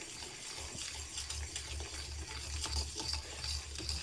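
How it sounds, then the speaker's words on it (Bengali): A spoon stirs gently warmed milk cream in a pan over a very low flame while making ghee, giving soft, continuous scraping and swishing over a low steady hum, close and fairly quiet. "হালকা গরম করে খালি চামচের সাহায্যে ঘেঁটে নেব"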